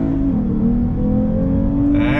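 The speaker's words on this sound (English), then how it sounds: "Do a little bit of on throttle acceleration." A 2021 Lexus IS350 F Sport sedan accelerates on throttle through twisty roads, its engine note rising in a loud, smooth drone heard from inside the cabin, pitch climbing steadily without talk.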